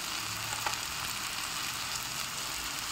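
Onions and spices such as chilli powder and fennel powder sauté in a pan for a rajma dish, giving a steady, close sizzle and crackle that runs on alone without any talking.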